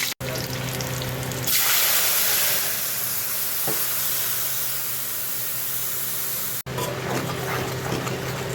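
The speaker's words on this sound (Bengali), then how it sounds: "মাছটা আমি কালো জিরে ফোড়ন দেবো" Nigella seeds are tempered in hot oil for a fish dish, bursting into a loud, bright sizzle partway in that settles into a steady frying hiss, then briefly cuts out and resumes.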